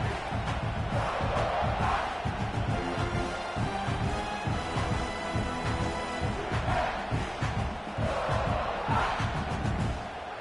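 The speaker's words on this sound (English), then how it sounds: "This crowd bringing the energy and noise early." College football stadium crowd roaring and cheering continuously, a dense wash of many voices with surging yells, loud and sustained.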